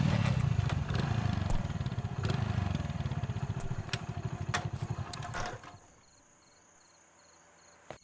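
A motorcycle being ridden gives a loud, steady engine drone up close that suddenly drops away after about two-thirds of the stretch, leaving a quiet background with faint insect-like chirping.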